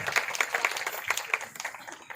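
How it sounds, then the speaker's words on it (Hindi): An audience at a Bible study seminar in Khanewal, Mian Channu, claps in a steady burst of applause, close and moderately loud, with sharp individual claps standing out. "जोरदार तालियां जी"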